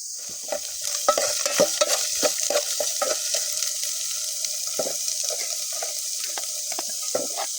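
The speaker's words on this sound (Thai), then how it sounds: "ทอดไข่งามๆ" Eggs frying in a pan, a steady close hiss of sizzling oil broken by frequent light taps and scrapes of a utensil.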